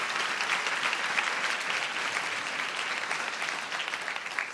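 A church congregation claps steadily and loudly in unison, an even wash of many hands sustained throughout with no break, a few voices faintly beneath it.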